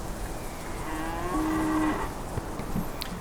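Cattle in the farming survival game Clanfolk give a drawn-out, nasal moo over steady game ambience, one long low call swelling in the middle before fading.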